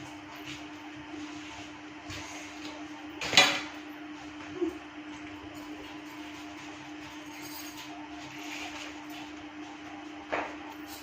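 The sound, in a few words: dishes and pots being washed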